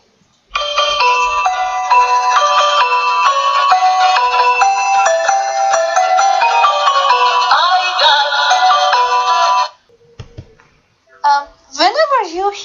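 An advertising jingle plays as a bright, busy electronic melody for about nine seconds, loud and continuous, then stops and a voice speaks briefly.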